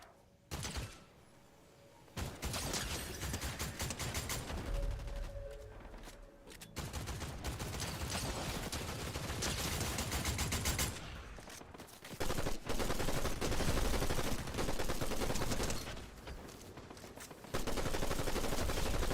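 Dense video game gunfire rattles in long near, loud bursts of rapid automatic shots and fusillades, broken by short pauses and occasional thuds, with no talk.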